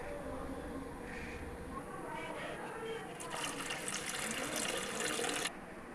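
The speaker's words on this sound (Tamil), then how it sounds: "இப்போ நான் புளி தண்ணி வடிகட்டு சேர்க்க போகிறேங்க" Strained tamarind water poured into a pan for an anchovy fish curry, a steady running, splashing pour that builds and swells louder toward the end before cutting off abruptly.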